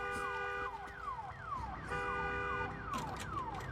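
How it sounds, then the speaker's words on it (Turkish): A car alarm wails in the video game Days Gone after a crash into a parked car, a repeating sweeping electronic siren looping steadily and loudly without talk. "Arkadaki arabaya çarptık, bir de alarm çalıyor."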